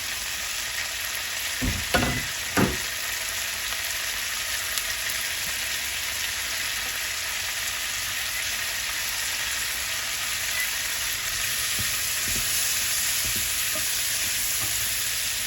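Food seasoned with lemon pepper frying in a pan, a steady close sizzle throughout with a few sharp clatters of it going in early on and light scraping later.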